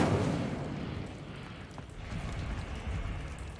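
A fire spell cast in the Hogwarts Legacy video game, heard as a loud, close, roaring burst of flame that eases slightly and then holds steady, with no voices.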